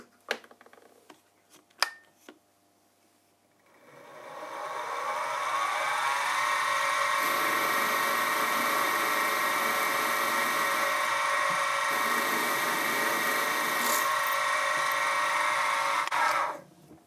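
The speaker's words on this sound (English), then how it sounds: "So now it's a matter of just drilling and tapping the remaining 2 holes" After a few clanks, a drill spins up into a long, steady whine at close range, drilling tapping holes in a metal steam engine valve chest cover, holding for about twelve seconds before stopping.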